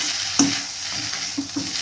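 A spoon stirs shark fish scramble (paal sura puttu) in a hot pan, with a soft steady sizzle and a few brief scraping knocks against the pan, close and alone.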